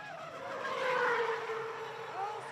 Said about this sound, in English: The thunderous V8 going down the bottom corner there.